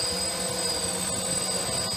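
A DJI hexacopter drone holding position in loiter mode: a steady, loud, high-pitched rotor whine with a constant tonal hum that runs without a break, and no voices.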